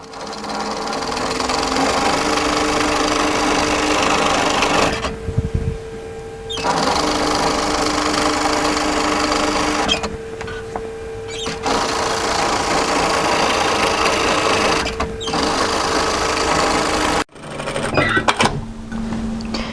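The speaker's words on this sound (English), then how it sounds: "So I'm going to run a second line of stitching parallel to my first." A sewing machine stitches a second parallel line on a button-up hooded A-line jacket in loud, close bursts with short pauses between runs, its motor whirring steadily under a fast needle chatter.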